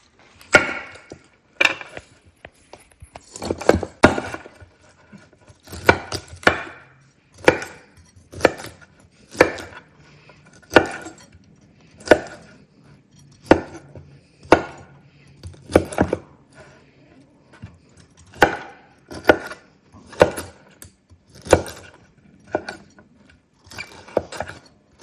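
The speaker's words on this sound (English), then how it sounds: "Just a rough chop." A knife roughly chops ingredients on a wooden board in irregular bursts of crisp, close thuds, with short pauses between clusters of strokes.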